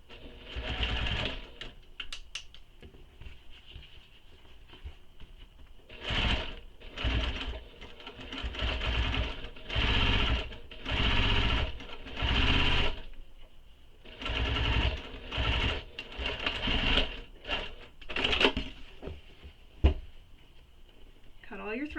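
Sewing machine top stitching the seam on a handbag base panel, running in repeated bursts of steady stitching separated by short pauses, close and clear over a quiet room.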